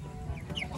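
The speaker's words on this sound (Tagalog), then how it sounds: "So, ito na yung ating mga manok, mga kadilag." Live chickens being delivered give a short, faint burst of clucking against a low background hum.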